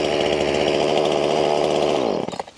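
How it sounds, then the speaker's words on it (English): A chainsaw engine, warm-started by pull cord, runs at a loud steady idle buzz close by, then winds down and dies with a few sputters at the end. "So there's your warm start, your standing start, and a cold start for a chainsaw."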